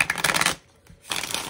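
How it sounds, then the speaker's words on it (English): Tarot cards being shuffled in two quick riffling bursts separated by a brief pause, close and crisp with no talking. "Let's get one more shuffle in"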